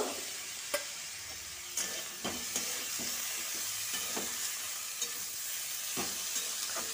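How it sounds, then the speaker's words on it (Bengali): Cabbage stalks with coriander and cumin powder sizzle in a pan for a Bengali chachchari, a soft steady frying hiss broken by repeated scraping clicks of a spatula stirring. "কষানো হয়ে গেলে কপির ডাঁটগুলোকে দিয়ে দেবো, দিয়ে ভালো করে কষিয়ে নেব।"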